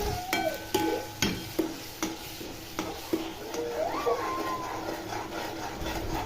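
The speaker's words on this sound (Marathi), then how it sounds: "पेस्टला आपण छानपैकी परतून घेऊया." A spice paste with cumin and mustard seeds fries in oil for a brinjal masala, with a series of sharp scraping stirs against the pan over soft sizzling, close and without talk.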